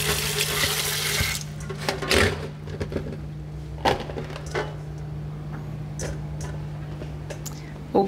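Tap water runs into a kitchen sink while mushrooms are washed by hand, a loud gush at first that then drops to quieter splashes and occasional knocks against a steady background hum.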